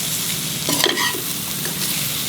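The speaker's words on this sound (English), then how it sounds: "Stir it." Dry prawn chutney with scraped coriander fries in a pan while being stirred, a constant loud sizzle with a few scraping strokes of the spoon in the middle.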